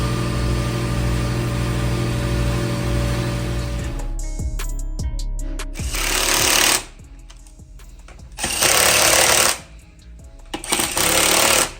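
Wheel bolts being run down with an impact wrench in a tire shop setting: a steady idling engine hum gives way to rapid ratcheting hammer bursts, three loud runs of a second or two each, with clanking between them.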